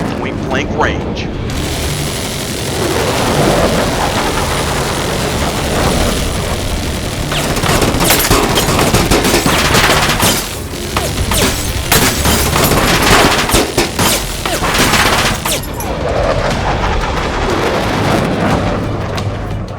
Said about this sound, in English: We're down to Gatling guns at point-blank range.